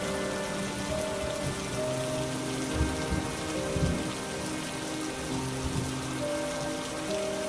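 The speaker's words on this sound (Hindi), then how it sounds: "तभी तेज तूफान आया और बहुत तेज बारिश शुरू हो गई" Heavy storm rain pours steadily and loudly onto a surface, a dense continuous wash with a few deeper rumbling swells, and no voices.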